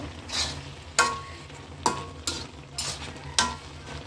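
Onions fry in oil in a pan with a steady sizzle, broken by about five sharp scraping strokes of a spatula at irregular intervals.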